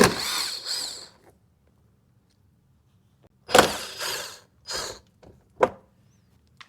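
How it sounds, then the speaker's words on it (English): A power driver spins out the two stock hex head fender bolts on a 2025 Yamaha RMAX4 1000 side-by-side, with close, loud whirring bursts of varying length separated by silent pauses. "the first thing you'll want to do is remove these stock hex head bolts in your fender."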